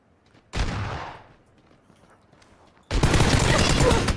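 Gunfire in the battle royale video game PUBG, two loud close bursts, the first short and fading, the second a sustained rattling volley after a brief quiet gap.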